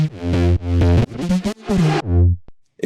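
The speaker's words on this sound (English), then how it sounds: "It creates a sweep, almost sort of like a reversed reverb kind of feel." A synth sound run through an octave-up reverb, swelling in short repeated crescendos like reversed reverb, loud and bright with distorted harmonic tones, then cutting off abruptly with a brief tail.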